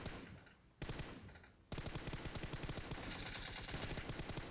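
Gunfire in a battle royale video game, with short bursts and then a long stretch of rapid automatic fire that sounds crisp and close, with no talk.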